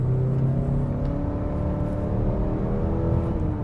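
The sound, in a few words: 2021 Mazda 3 GT 2.5 Turbo accelerating at full throttle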